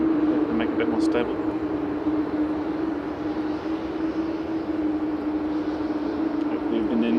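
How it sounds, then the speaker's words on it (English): An Airbus A330 airliner's engines hum at Manchester Airport in a loud, steady tone, with a few brief higher chirps and what may be faint voices. "Hope you've been enjoying the lovely noises of this airling Airbus A330"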